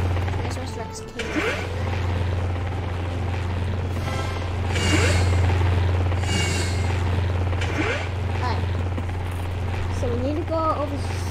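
Helicopters in a video game park give a steady low rotor drone throughout, with a few brief whooshing passes and occasional game effects layered over it, while people talk over the top.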